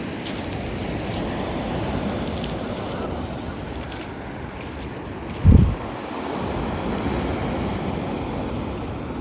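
Ocean surf rolls steadily on a beach in Adler, Sochi, at sunset, a continuous wash of waves with wind on the microphone and one brief thump midway.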